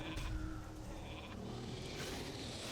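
Sheep bleating from a polymorph spell in Classic World of Warcraft, cast by a gnome mage in the Zul'Gurub raid: a quiet, wavering bleat mixed into steady game background noise.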